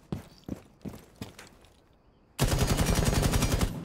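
A few dull thuds are followed by a sudden loud, rapid burst of automatic gunfire in Rainbow Six Siege, a dense close rattle that runs to the end.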